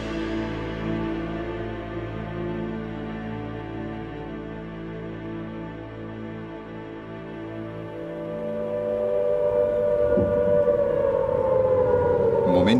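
Air raid sirens wail across London on the eve of war declaration, a loud sustained tone holding steady before rising into a swelling, sweeping pitch toward the end.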